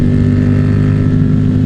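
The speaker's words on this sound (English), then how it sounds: "Overpass revs." A Harley-Davidson motorcycle engine revs loudly and steadily under an overpass, its deep throaty rumble echoing off the concrete, with no voices.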